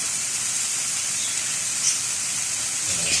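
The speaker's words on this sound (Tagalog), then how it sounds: "So piprito ko lang to." Food sizzles in a hot pan for a Filipino squash and string bean coconut stew, a steady bright hiss that stays close and even throughout, with no talk over it.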